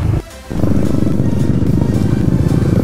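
A motorcycle ridden on a rainy Pune to Malshej Sunday ride, a loud steady engine drone with wind rumble that starts after a brief dip.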